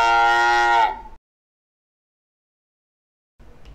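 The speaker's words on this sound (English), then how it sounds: "Cow." A cow gives one loud, close, drawn-out moo lasting about a second, then silence.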